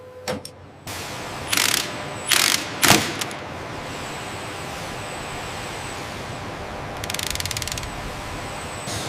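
Mechanical clicks and ratchet-like bursts from bolt tightening during Beriev Be-200 hull production, a few separate clicks early, then a quick rattling run near the end over steady background hum.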